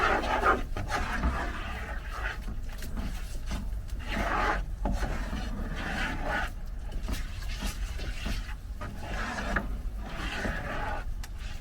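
A heaped spoon of English mustard stirred into a cheesy mixture, a steady scraping and rubbing of spoon against bowl that runs close and continuous throughout with no talk.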